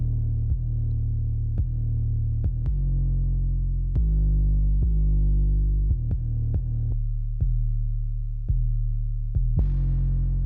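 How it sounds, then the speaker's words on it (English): Deep, booming 808 bass drum hits in a hip-hop beat, heavy sustained low tones retriggered in an uneven rhythm with sharp transient clicks, loud and close with no voices. "So next we have our 808."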